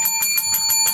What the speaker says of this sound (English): Give him a bell.